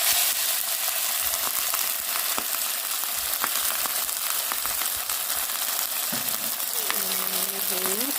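Samyang ramyeon noodles frying in a little oil in a hot pan give off a steady, close sizzle with occasional stirring clicks, and a voice talks briefly near the end.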